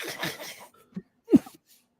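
A single sharp cough bursts out after a short breathy sound, close and fairly loud, followed by quiet.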